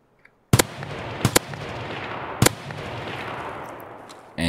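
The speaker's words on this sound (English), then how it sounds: "these were probably the cleanest three shots I ever took on such long distance with no scope" Three loud, sharp gunshots from an unscoped rifle fired at long range in Escape from Tarkov at Interchange. The first is a single crack, the second is a quick double, and each leaves a long rumbling echo over steady ambient noise.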